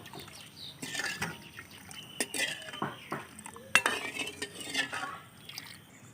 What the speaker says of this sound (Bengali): চিনিটা আমি জলের মধ্যে গুলে নিচ্ছি।